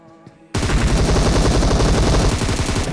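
Sustained automatic gunfire in PUBG Mobile erupts after a brief quiet lead-in, then keeps going as a loud, dense, rapid stream of shots that fills the rest of the clip.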